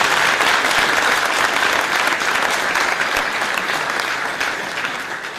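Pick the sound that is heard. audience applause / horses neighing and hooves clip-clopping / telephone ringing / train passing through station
audience applause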